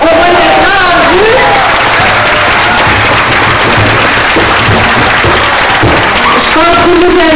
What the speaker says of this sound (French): On les applaudit, on va les applaudir.